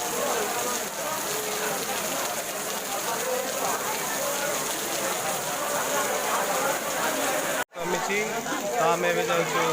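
Heavy rain pours steadily at the Dhabaleswar temple during a Kartik-month Monday visit, a dense continuous hiss and patter filling the whole scene while voices talk beneath it.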